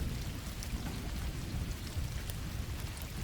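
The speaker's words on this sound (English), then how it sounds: "The rain was pounding on the windshield with an almost hypnotic force" Heavy rain pounds steadily against a car windshield, a dense, continuous roar with low rumbling weight and no pauses, close and loud throughout with no voices.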